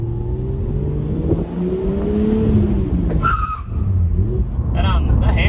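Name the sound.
Nissan Skyline R33 skidding with handbrake locked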